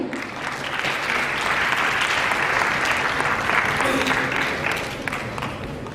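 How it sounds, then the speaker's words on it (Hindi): Loud, sustained applause fills a hall at a medal and honor ceremony for a district education officer, with dense clapping throughout and a voice faintly underneath. "जोरदार तालियां।"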